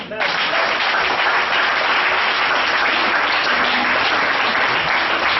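A church congregation applauds to acclaim the Lord, loud, dense clapping that starts abruptly and continues evenly, with voices faintly mixed into the roar.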